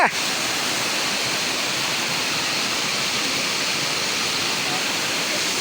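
A waterfall in Luang Namtha, Laos, roars in a loud, steady broadband rush that fills the whole scene without pause, close and constant.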